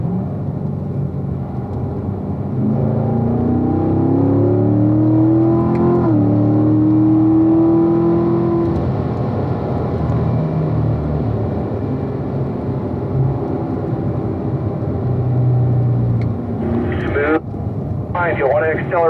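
Grand Sport car accelerating on a race track, its engine note rising steadily and staying loud and continuous under an instructor's spoken coaching, with wind noise throughout.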